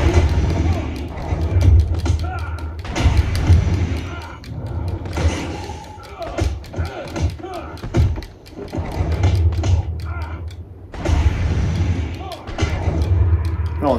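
Batman lands punches and kicks on thugs in Batman: Arkham Asylum, a stream of heavy thuds and smacks from close combat with game music behind them and a voice talking over the fight.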